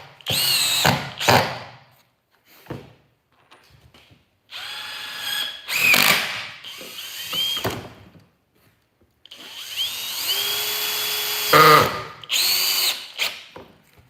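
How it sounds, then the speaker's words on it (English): A cordless drill whirs in several short bursts of varying length, revving up and stopping, with quiet pauses and faint handling noises between. "How's that drill? You like it? Yeah, it's got some oomph."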